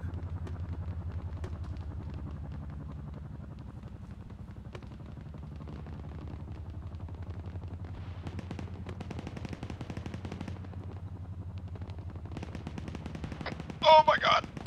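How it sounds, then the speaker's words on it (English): Distant gunfire in a military shooter video game, faint scattered bursts and cracks beyond a hill under a low rumbling background, with players talking, and a louder sharp burst near the end. "Shots? Yeah, it's on the other side of the hill."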